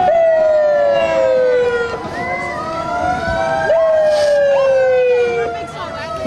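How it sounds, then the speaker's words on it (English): Police car sirens wail loudly and close at a St. Patrick's Day parade, with long sweeping tones rising and falling as several units pass, with no talking over them. "they gotta bring these sirens back"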